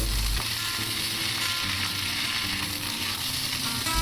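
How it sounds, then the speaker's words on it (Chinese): Zucchini slices are stir-fried with scallion, garlic and dried chili in a flat pan over medium heat, a loud, steady sizzle with scraping and clattering as the spatula tosses them. "油热后放入葱蒜干辣椒，炒出香味，然后倒入西葫芦片翻炒均匀"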